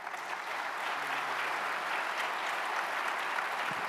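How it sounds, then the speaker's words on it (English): Audience applause for panelists at a recycling industry summit, a thick, even roar of many hands clapping at steady strength throughout. "Can we give them a round of applause, please?"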